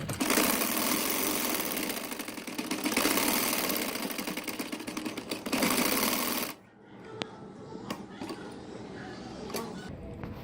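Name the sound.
sewing machine double-stitching a salwar nefa (waistband)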